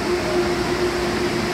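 Near and steady, the Ankeng light rail train hums at Shisizhang station in New Taipei, with a constant low drone and a faint tonal whine and no voices.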